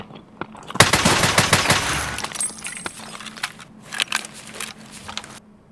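Rapid automatic gunfire from a shooter video game, a loud dense burst of shots in the first seconds, then scattered single shots and sharp impacts tapering off.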